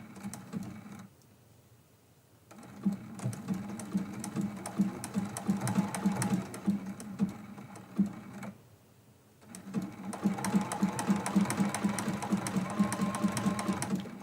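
A sewing machine stitches a quilt-as-you-go block, working around a leaf point in quick rhythmic runs that break into two quiet pauses where the fabric is turned, then resume at close range.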